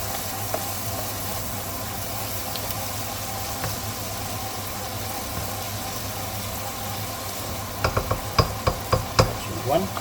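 Spices and onions for chicken curry sizzle steadily in a pot, a low continuous hiss with a few sharp clinks of stirring near the end.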